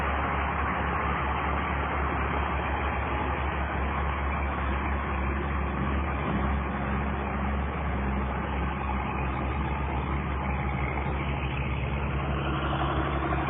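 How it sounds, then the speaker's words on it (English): A 1988 John Deere 4650 tractor pulls a six-yard dirt pan, its diesel engine giving a steady, loud, continuous drone with a deep low hum throughout and no talking. "This tractor handles this little dirt pan very well."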